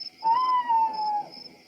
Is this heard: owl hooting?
yes